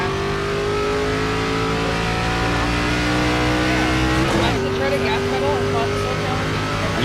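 A race car in a Daytona stock-car racing sim revs hard, its engine drone climbing steadily in pitch, then dropping briefly around a gear change before rising again, with faint voice chatter in the background.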